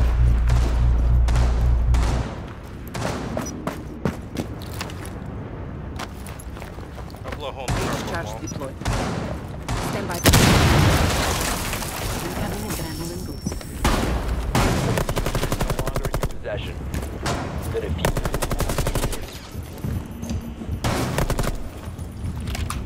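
Gunfire and heavy shotgun blasts from a Rainbow Six Siege Bomb match on the Kanal map, loud repeated shots in quick bursts with a booming blast near the middle, voices talking over much of the action.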